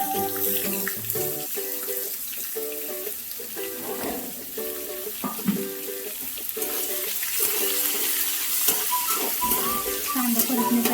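Onion for kanda poha sautés in a pan, a soft sizzle under strong harmonic tones and intermittent clinks of stirring throughout.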